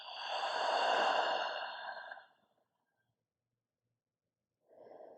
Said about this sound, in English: And then open mouth exhale, let it all go